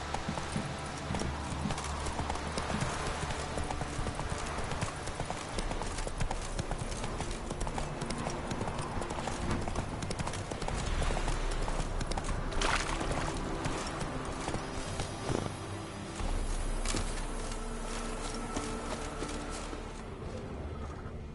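Roach, the horse in The Witcher 3: Wild Hunt, gallops at a steady rhythm of hoofbeats that runs continuously and loudly over a game soundscape, with no talking.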